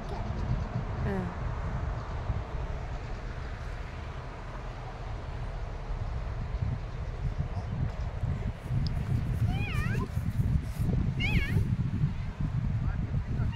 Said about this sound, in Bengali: কালো বিড়াল এটা আমাদের পিছনেই ঘুরছিল